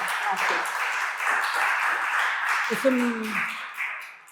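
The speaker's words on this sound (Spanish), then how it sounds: "Les pido un aplauso para Miriam." An audience at a live interview event applauds steadily for a guest for several seconds, a dense sustained patter of many clapping hands, with a voice briefly cutting through near the end.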